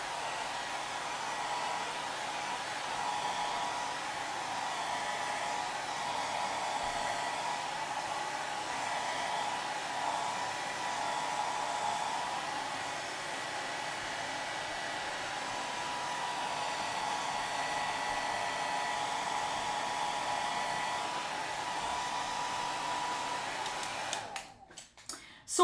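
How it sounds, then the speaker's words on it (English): A hair dryer blows with a steady, whining hum at moderate volume for about twenty-four seconds, then clicks and sputters off. "I'm going to hit it with a hairdryer for just a minute"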